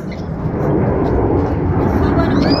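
An airplane passes overhead in London, Canada, a broad, steady roar that rumbles continuously across the whole stretch, fairly loud and close with no clear start or end, with faint background voices beneath it.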